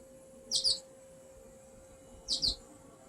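Birds chirp outdoors on a hot, very windy day, two short high double chirps about two seconds apart over a faint steady hum and background noise.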